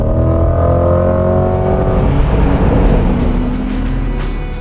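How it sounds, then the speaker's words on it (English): A 2020 Chevrolet Corvette Stingray's mid-engine V8 accelerates hard, its loud rising engine note climbing steadily through the revs heard from inside the car. "that powerful mid-engine V8 back there has all the torque necessary to fling the Corvette up to triple-digit speeds"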